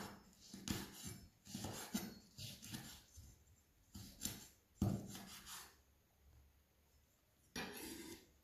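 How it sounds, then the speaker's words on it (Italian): A knife chops through a chili pepper on a cutting board in a home kitchen, a series of soft, close taps and scrapes in uneven bursts with quiet pauses between them. "taglio il peperoncino"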